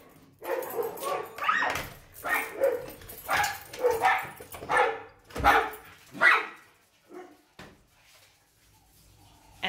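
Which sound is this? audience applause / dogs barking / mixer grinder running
dogs barking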